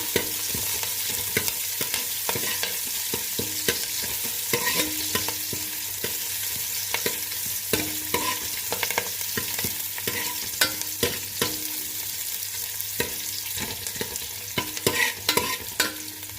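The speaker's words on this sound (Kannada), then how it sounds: "ಈರುಳ್ಳಿ, ಸ್ವಲ್ಪ ಕರಿಬೇವಿನ ಸೊಪ್ಪು ಚೆನ್ನಾಗಿ ಫ್ರೈ ಮಾಡ್ಕೊಳ್ಳೋಣ" Onion and curry leaves stir-fry in a wide pan for mutton kaima curry, a steady sizzle broken by repeated scraping strokes of a spoon against the metal, close and continuous with no talk.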